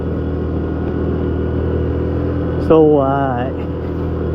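A 2007 Can-Am Outlander Max XT 400 ATV engine runs at full throttle, a constant, loud droning hum throughout, and someone briefly speaks over it near the end.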